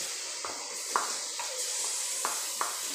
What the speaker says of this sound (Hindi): अब हमने डाला लहसुन अदरक और हरी मिर्च का पेस्ट